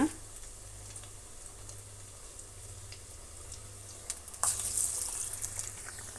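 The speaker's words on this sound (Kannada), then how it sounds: "ಚೆನ್ನಾಗಿ ಡೀಪ್ ಫ್ರೈ ಆಗಬೇಕು ಫ್ರೆಂಡ್ಸ್ ಈಗ ವಡೆನ ಮತ್ತೊಂದು ಕಡೆ ತಿರುಗಿಸೋಣ" Vada deep-fry in hot oil, a soft steady bubbling sizzle that grows louder and brighter in the last couple of seconds as the pieces are moved in the oil.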